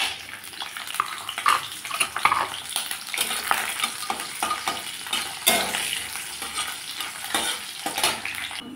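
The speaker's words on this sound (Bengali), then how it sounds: "ডালের বড়িগুলো ভেজে নেব।" Dal bori, lentil dumplings, fry in mustard oil in a kadai with a steady, close sizzle and frequent clinks and scrapes of stirring throughout, no voices.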